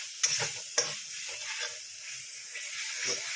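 Poppy seed gravy being sautéed in a pan, a quiet steady sizzle with a few sharp scrapes and clicks from stirring, close and without voices.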